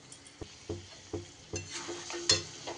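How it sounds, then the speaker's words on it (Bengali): Slit green chillies and spices with vegetables frying in a pan for a vegetarian Bengali labra, quiet sizzling beneath a slow series of distinct spatula scrapes and taps against the pan. "ভালো করে নাড়িয়ে চাড়িয়ে মশলার সাথে মিশিয়ে নিতে হবে"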